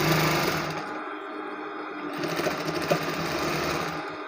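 Sewing machine stitching piping in a round seam on a kameez, a steady close mechanical whir that runs throughout with a slight rise in pace partway through, no voices.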